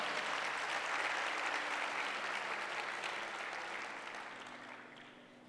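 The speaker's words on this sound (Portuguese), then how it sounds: "Você pode dar uma salva de palmas ao Senhor?" A church congregation claps for the Lord during a sermon, a dense sustained round of applause from many hands that holds steady and then gradually fades toward the end.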